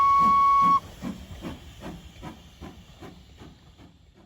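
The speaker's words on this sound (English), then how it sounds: "The Polar Express let out a loud blast from its whistle and sped away." A loud, steady steam whistle blast cuts off abruptly, followed by the rhythmic chuffing of a steam locomotive pulling away.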